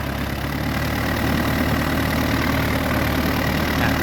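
An engine idles in neutral at a fish pond with a steady, loud, low mechanical rumble and a faint knocking texture, running without change and with no voices.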